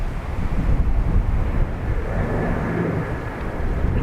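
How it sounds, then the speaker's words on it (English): An Icelandair Airbus A321neo passes at Dublin Airport as a steady, broad jet roar mixed with wind buffeting the microphone, loud and continuous throughout. "Icelandair 321 Neo."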